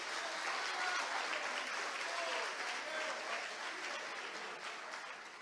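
Church congregation applauding during a sermon, a steady wash of clapping from many hands at moderate distance, fading slightly toward the end.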